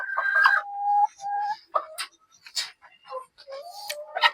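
Hens cluck in short bursts inside a new battery cage, a few birds at a time settling in, with some high chicken calls; a person speaks softly between the clucks.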